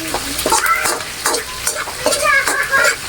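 Squid for adobong pusit fries in a pan, with loud sizzling and repeated scraping stirring strokes up close in a rhythmic pattern.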